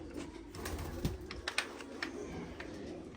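Pigeons coo softly in a few low, throaty bursts, with light rustling and small knocks around them, fairly quiet overall.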